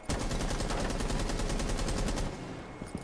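Rapid automatic gunfire in the Rainbow Six video game, a loud, evenly spaced burst of shots lasting over two seconds, then abruptly cutting off to quieter room noise.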